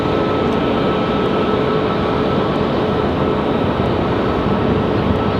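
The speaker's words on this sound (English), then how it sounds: "we'll be able to hear the startup of the Dreamliner" Jet engines of a Boeing 787 Dreamliner spinning up at Raleigh-Durham airport: a dense, steady roar with a thin sustained tonal whine riding on top, loud and close, no voices.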